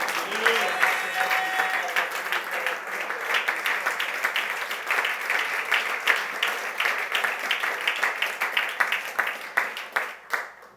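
A church congregation applauds and cheers at a French-language worship service, with sustained loud clapping from a large crowd, a rhythmic pulse emerging toward the end, and voices shouting beneath it.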